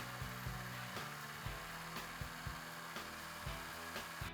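Drill boring a pinhole through the side of a guard on a handmade full tang knife, a steady loud whirring drone with faint regular pulses of the bit biting throughout.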